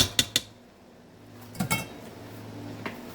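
Drained noodles are tipped into a pan of sauce and vegetables, giving two sharp clanks near the start and another pair of knocks midway, then a lighter tap near the end.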